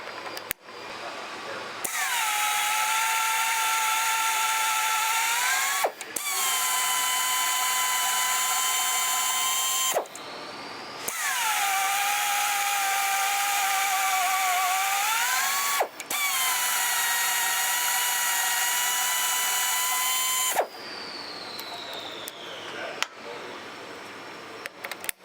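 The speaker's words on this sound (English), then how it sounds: "Change it out to our tap." A FlexArm power tapping tool threads a metal part about three-quarters to one inch thick, with several long, steady motor whines that change pitch slightly as the tap bites and reverses, separated by short pauses and clicks.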